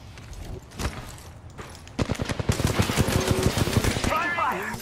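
Rapid automatic gunfire in an Apex Legends match, loud bursts of shots in quick succession following a faint earlier shot, with a player's voice calling out over the fight.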